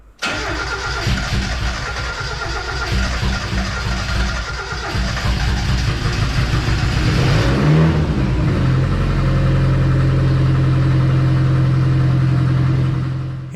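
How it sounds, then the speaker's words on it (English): A 1.6-liter turbocharged Miata drift car engine cranks, catches and settles into a loud, steady run, droning close and continuous with no talk over it. "Hearing the car run for the first time in half a year"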